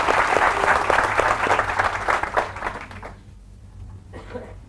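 An audience at a network-marketing talk claps steadily in a loud wash, then the applause drops off abruptly, leaving a quieter room with faint voices.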